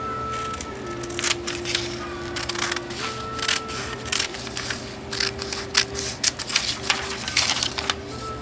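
Scissors snipping through material for a beaded wallet, a series of short crisp cuts at close range over a steady low hum, with a few louder snips scattered through.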